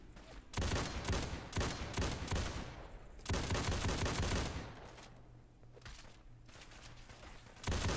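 An AA-12 shotgun firing in the Fallout 4 video game, with rapid bursts of loud automatic blasts, pauses between the volleys and a fainter stretch in the middle.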